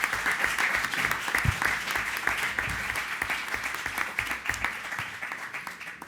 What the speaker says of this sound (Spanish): don Eligio Rivas, pido un aplauso para él